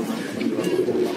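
Soft, low pigeon cooing close by, a continuous murmur of several birds.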